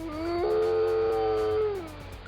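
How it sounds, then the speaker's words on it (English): A single long, clear howl from a dog-like animal, rising, holding steady, then falling away, fairly close and alone. "Howling is something you often hear before you see wild dogs."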